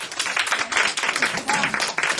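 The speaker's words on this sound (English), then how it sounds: "A round of applause, please" Lively audience applause at a panel session, close, brisk clapping with some individually distinct hand claps, dense and continuous for a couple of seconds.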